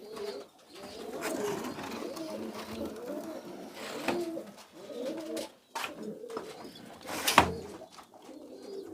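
Pigeons coo nearby in a loft with gravel nests, giving soft, throaty rolling calls repeated in uneven bursts, with occasional rustling and a brief louder knock.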